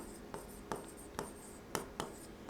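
Chalk or marker taps and scratches on a board during an ecology lecture, five or six short, faint strokes spaced roughly half a second apart in a quiet room.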